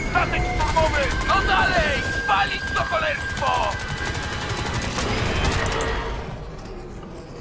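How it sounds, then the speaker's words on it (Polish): Weapon fire from a grenade launcher in the shooter game Crysis 2 sounds as a rapid string of sharp bursts and cracks. Someone talks over it the whole time. "bo ja strzelam granatnika jeszcze"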